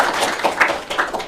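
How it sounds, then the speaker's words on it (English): Brief, light clapping from a small audience at a university open day lecture on the geography of nationalism, a short scatter of close hand claps. "So round of applause."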